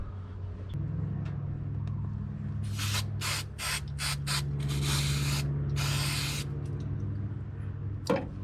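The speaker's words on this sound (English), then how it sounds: "And I'll be spraying some contact cement on the O-ring." Several bursts of contact cement spray hiss from a can onto an O-ring during an oil change on a 2005 Nissan Titan, short ones followed by longer sustained blasts, close up over a low steady hum.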